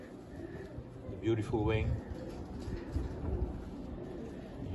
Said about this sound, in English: Here is a very special breeding pigeon in my loft.